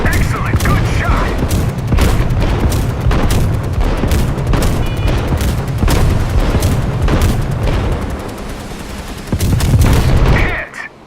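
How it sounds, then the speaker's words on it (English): Anti-aircraft guns firing in the naval combat video game Steel Ocean, aboard a USA Yorktown aircraft carrier: a steady barrage of rapid, loud gunshots and booms runs throughout, with a voice speaking over the fire near the end. "Anti-aircraft guns on alert. Excellent, good shot."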